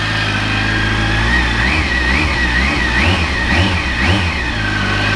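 Kawasaki ZX14 (ZZR1400) motorcycle engine with a mechanical timing chain tensioner, running steadily at close range, with a few gentle rises and falls in revs over a continuous mechanical hum.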